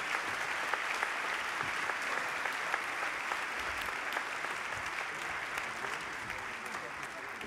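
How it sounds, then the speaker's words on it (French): Audience applause for laureates on stage at an evening ceremony, a dense steady clapping that fills the room evenly throughout without breaks. "On peut les applaudir, là ils sont tous devant vous"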